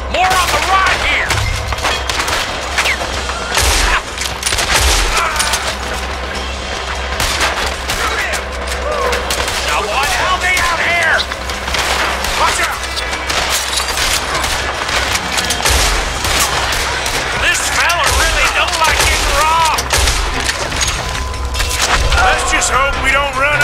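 Dense, sustained gunfire from a Red Dead Redemption 2 shootout, with rapid repeated shots and bursts crackling throughout over a steady low rumble, mixed with game voices and effects.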